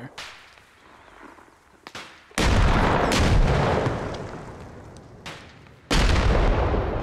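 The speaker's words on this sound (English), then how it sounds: "Someone close, throwing grenades up there." Grenades detonating in the Arma Reforger video game: two heavy, close blasts with long rumbling tails, preceded by a few sharp cracks over a quieter stretch of background noise.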